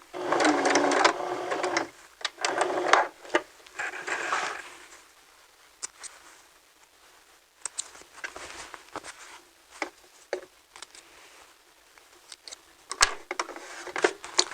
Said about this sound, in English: back stitch, and then stitch forward all the way to the end